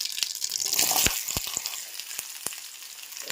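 Onion frying in a pan on a gas stove, a steady close sizzle with a few sharp crackles and pops, louder at first and easing off, no talk.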